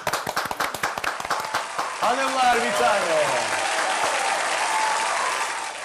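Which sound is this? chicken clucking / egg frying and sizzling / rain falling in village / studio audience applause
studio audience applause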